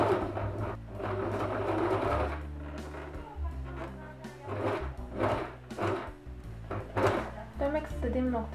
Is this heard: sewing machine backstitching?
yes